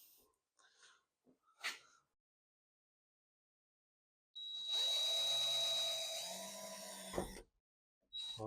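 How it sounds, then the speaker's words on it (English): A tiny drill starts a hole in a Toyota Celica's rear for a spoiler install, whirring loudly for about three seconds after a few faint knocks and handling taps, then a brief second burst at the end. "So first I'm going to use a tiny drill to start the hole."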